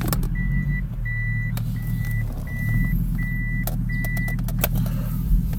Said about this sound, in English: You put it in reverse and it beeps.